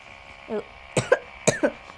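A person coughs a few times in short, sharp bursts, close by, with a brief throat sound before the coughs over a faint steady hum.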